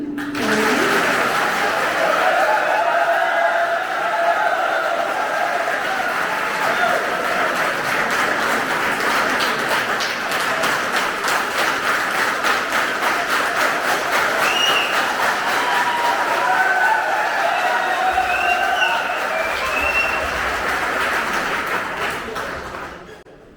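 Audience applause greeting a senior traffic instructor and poet at an institute's Harivansh Rai Bachchan birth anniversary event, steady and loud clapping from a crowd sustained for over twenty seconds before fading at the end.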